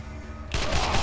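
A single loud gunshot impact in the video game Wasteland 2 breaks in abruptly halfway through, following a quieter stretch of low game ambience and ringing into a dense burst.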